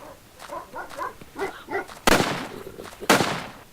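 Dogs in the horror video game Red Lake, with short barks spread through the first two seconds, then two loud, sharp bursts a second apart, all fairly close and with no talking over them.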